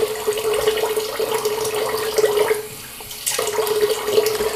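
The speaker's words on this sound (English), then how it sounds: "now I'm going to rinse off my face real quick" Tap water runs steadily into a sink while soap is rinsed off a face, a close splashing hiss that briefly drops during a short pause before resuming.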